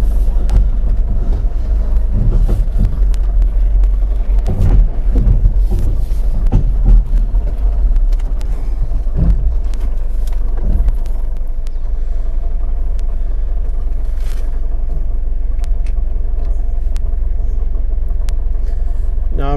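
A smoking 4WD vehicle grinds up a hill, its engine a heavy, continuous low rumble close by, with occasional bumps and knocks over the drone.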